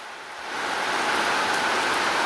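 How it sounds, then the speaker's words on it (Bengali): Heavy rain falls on a rural Bangladesh autumn morning, a dense, even roar of drops that swells in during the first half second and then pours on steadily. "শারদীয় প্রাতে বৃষ্টি নেমেছে আকাশ ভেঙে"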